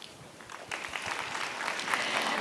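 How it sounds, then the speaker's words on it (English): Audience applause following a presentation at a low carbon energy business summit, a steady wash of clapping that swells after a soft start and continues throughout. "Another big round of applause, please."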